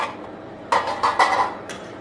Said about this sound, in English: add the onions and the capsicum and give it a good stir.